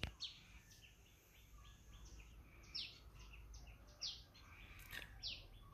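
Faint birds chirp and twitter in short repeated phrases over a low background rumble, with no voices.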